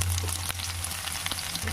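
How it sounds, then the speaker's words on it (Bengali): Chopped onions and black cumin seeds frying in hot oil, giving a steady, close sizzle with soft crackles throughout and no talking. "ভালো করে পেঁয়াজগুলো আমি ভেজে নেবো"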